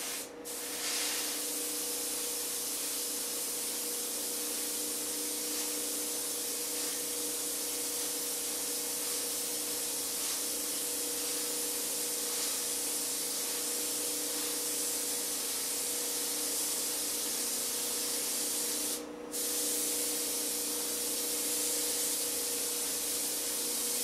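Epoxy paint sprayed over frisket masking on a Bearcat model, a steady close hiss that runs unbroken for the whole stretch with one brief pause near the end.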